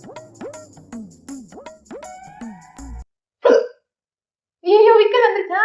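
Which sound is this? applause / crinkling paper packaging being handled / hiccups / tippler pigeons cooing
hiccups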